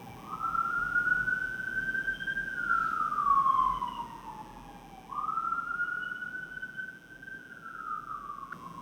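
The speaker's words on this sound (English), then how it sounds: "we'll just continue while the sirens are blaring off into the distance" An emergency siren wails steadily outside, its pitch sweeping up and down in long slow arcs as it passes, loud at first and easing slightly over nine seconds, with no voices over it.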